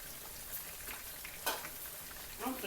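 Pondu, cassava leaves, frying in a pan with a steady broadband sizzle throughout, a few louder crackles and stirring bumps rising briefly above the continuous hiss.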